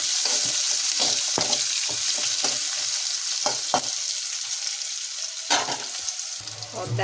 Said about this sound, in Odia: ପ୍ରଥମେ ଆମେ କିଛି ଗୋଟା ମସଲା ପକାଇଦେବା, ତାପରେ ପିଆଜ ଦେଇଦେବା